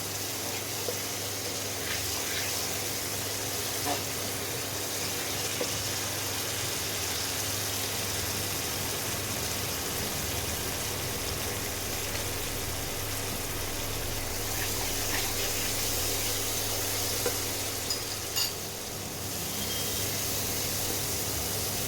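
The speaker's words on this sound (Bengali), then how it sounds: "এবারে জল দিলাম।" Water poured into spices frying in oil for a Bengali fish curry (mouri tangra), a steady broadband gush and hiss that runs unbroken and fairly loud close by, with no talk over it.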